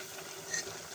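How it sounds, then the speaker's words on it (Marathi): A pot of cumin rice (jeera rice) cooking on the stove gives a soft, steady sizzle with small ticks and one sharper click near the end, heard close and without voices. "हे बघा इथे आपला हा जिरा राईस अजून शिजतोय"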